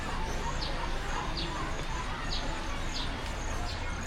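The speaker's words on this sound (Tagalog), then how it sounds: "Nandun yung mga pabo." Turkeys on Garin Farm in Iloilo give short, high calls repeated about once a second over a background of outdoor noise and wind, moderately distant and fairly faint.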